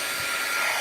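A heat tool blowing steadily to dry embossing powder on stencils, a loud continuous whooshing fan hiss with no breaks.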